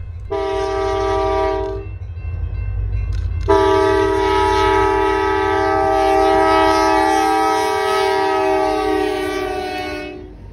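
Indiana & Ohio Railroad freight train sounding a loud, close multi-tone horn in two blasts, a short one and then a long sustained one, over the steady rumble of the passing train.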